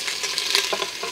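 Parboiled beef stirred in a hot pan, a steady bright sizzle with scraping stir strokes, close and fairly loud, with no voices over it.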